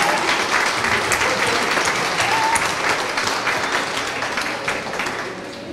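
Sustained applause from a crowd, dense steady clapping that stays loud throughout and tapers slightly toward the end.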